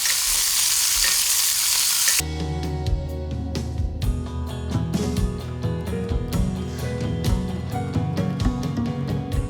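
Pork chops fry in butter and thyme in a pan. A broad hiss cuts off abruptly, then quick repeated spoon scrapes and taps ring against the pan over a lower, steady sizzle, close and fairly loud throughout.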